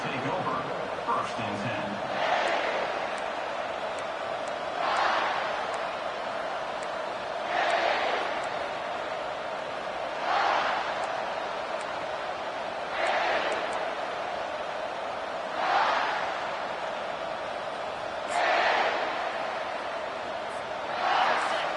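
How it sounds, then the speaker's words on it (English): A stadium crowd in the NCAA 25 college football video game roars steadily, swelling in regular waves every few seconds, mixed with game commentary spoken over the top. "This crowd, full throat, splitting the eardrums and letting them know it's going to be a long day."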